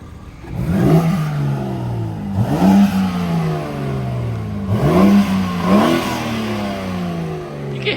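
A BMW G80 M3 fitted with front mount intakes revs hard three times in a row, each loud throttle blip rising sharply and then falling back to a steady idle between pulls, close by with no talking.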